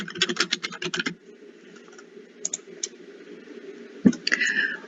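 Keys clatter on a computer keyboard in quick bursts, with a flurry of taps at the start, a few scattered strokes, then a sharp click followed by more typing, close and fairly loud.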